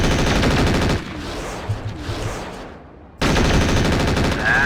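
Mech weapons in the video game MechWarrior 4: Vengeance, with loud rapid machine-gun bursts at the start, a dip into rumbling explosions and fading echoes, then another sustained volley of gunfire.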